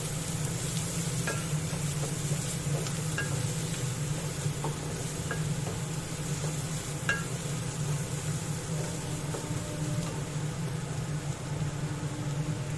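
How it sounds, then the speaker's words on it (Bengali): Grated ginger and chopped green chillies fry together in a pan for a dhaba-style egg curry, giving a steady, even sizzle with a few faint stirring clicks throughout. "এবার এগুলো সব একসাথে আমি একটু ভেজে নেব"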